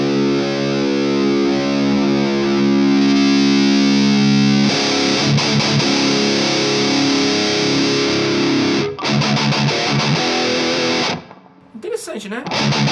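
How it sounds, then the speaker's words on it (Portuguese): Electric guitar played through a Hell Melter distortion pedal straight into an audio interface, thick saturated sustained chords and riffs, loud and dense, breaking off near the end into brief scratchy noise. "Vamos fazer mais um som aqui nesse pedal."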